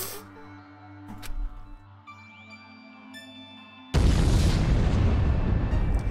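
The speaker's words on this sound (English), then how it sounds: "And of course, Toko gets caught in the explosion" A loud, sustained explosion erupts in Danganronpa Another Episode: Ultra Despair Girls, a sudden broadband blast that follows a quieter stretch of game tones and low rumbles and keeps roaring to the end.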